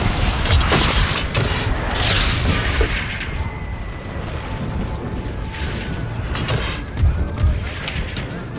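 Musket and artillery volleys in Empire: Total War rattle and boom continuously in a dense, loud battle din, with sharper bursts rising near the start and again toward the end.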